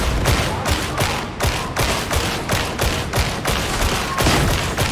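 Rapid sustained gunfire in the video game Warhammer 40,000: Darktide, dense repeated shots with heavy thumps, loud and continuous throughout.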